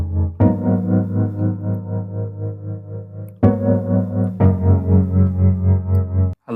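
Dream Machine preset from the Hammers And Waves Electric VST, layered under a grand piano: lush, wavering sustained chords with a chorus-like shimmer, struck three times and held long, up close with no voices.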